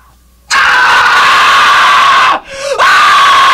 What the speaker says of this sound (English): Primal screams.